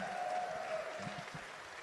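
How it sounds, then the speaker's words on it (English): A small audience at a celebration event claps for a performer, a soft, brief burst of applause with a faint tone and some low murmuring underneath. "Can we give Tiffany another round of applause?"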